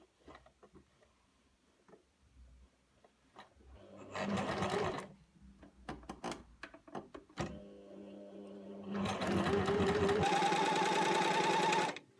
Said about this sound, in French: On pique à 1 cm du bord en démarrant sur un repère.